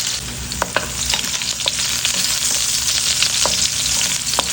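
Carrot and potato pieces fry in hot oil, a continuous close crackling sizzle with occasional sharp pops and light utensil scrapes, no voices.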